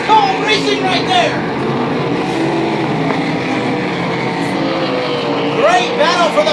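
RaceSaver sprint cars roar around the dirt oval at Devils Bowl Speedway during a main event, with a continuous loud engine drone and engines rising and falling as they pass, under steady commentary.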